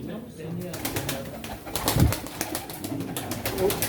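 Pigeons cooing at a pigeon auction in Çorum, with a low coo standing out midway over steady background chatter and noise.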